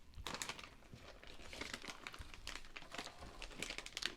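Crinkly plastic snack bag of peanut butter popcorn being handled and opened, steady soft crackling and rustling throughout, quiet and close, with no talk.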